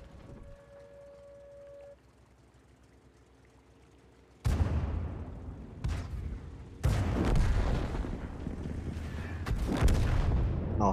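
Tank cannon shots in an online tank video game with Italian tank destroyers, several loud booming blasts in close succession after a quieter stretch, each with a long rumbling decay.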